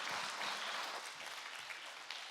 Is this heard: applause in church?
yes